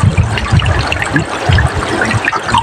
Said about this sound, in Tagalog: Yung tubig.